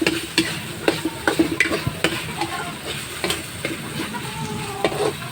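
Corned beef stir-fried in a wok for homemade fried rice, a close scraping and stirring rhythm of spatula strokes over steady sizzling, with no talk.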